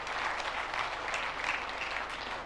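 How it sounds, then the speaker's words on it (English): An audience at a motivational talk by a stand-up comedian and actor applauds steadily, a dense wash of many hands clapping throughout. "clap for yourself, my friend"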